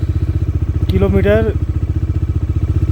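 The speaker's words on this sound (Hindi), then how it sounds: "बाकी बाइक स्टार्ट हो गई है, देख सकते हो।" A motorcycle engine idles steadily after starting on a long-distance ride toward Kashmir and Ladakh, a loud, even, close putter with someone briefly speaking over it.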